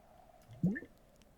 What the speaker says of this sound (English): a little water splashes on the stones of the well to nourish the mosses there